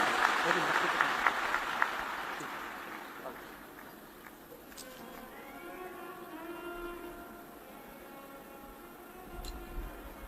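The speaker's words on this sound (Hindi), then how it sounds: "एक बार जोरदार ताली बजाओ।" An audience at a Shiv Mahapuran religious discourse in Sirsa, Haryana claps, a burst of applause for the first couple of seconds that fades into a quieter murmuring hall.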